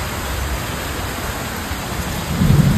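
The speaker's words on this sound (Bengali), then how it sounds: "কি বৃষ্টি।" Heavy rain pours steadily in a wash of broadband hiss, and a low rumble of thunder swells near the end.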